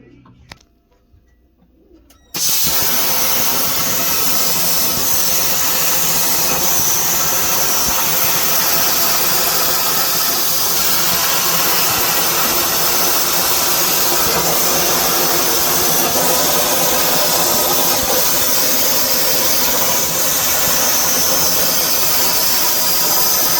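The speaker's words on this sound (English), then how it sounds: "So I'm going to turn on the plasma, get it all cooked up, and get that piece cut." A plasma cutter slicing through a metal plate kicks in after a brief quiet start, then a loud, steady, harsh roaring hiss runs unbroken for about twenty seconds, close and alone.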